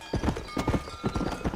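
Horse hooves clip-clop in a steady, close, rhythmic trot in the Red Dead Redemption video game, heard alone without talk.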